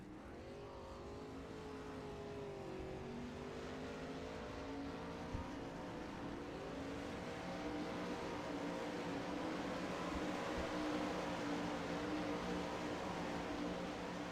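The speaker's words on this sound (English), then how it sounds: "Going to get cars coming out onto the racetrack." Race cars rumble and rev as they roll out onto a dirt oval for a warm-up session before a Dirt Slingers Monday Outlaws Series feature, a steady layered engine drone with rising and falling pitch from several cars, continuous and fairly loud.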